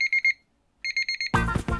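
An alarm clock rings in short, evenly spaced electronic beeps: a burst of four, a brief pause, then another run of beeps before a voice starts talking over the end.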